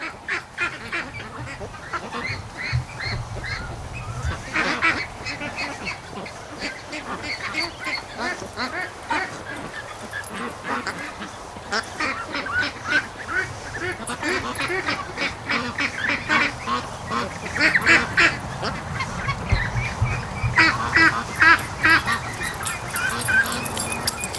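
Muscovy ducks and ducklings by a lake quack and honk in a busy, continuous flock chorus, close and fairly loud, with overlapping calls throughout and no talking.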